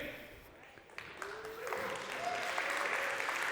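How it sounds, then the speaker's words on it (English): Enthusiastic applause from a conference audience builds and holds steady at moderate volume, a broad wash of clapping with a faint tonal whine running beneath it. "I love the enthusiastic applause after the lunch break"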